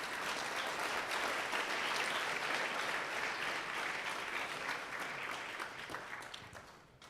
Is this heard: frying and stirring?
no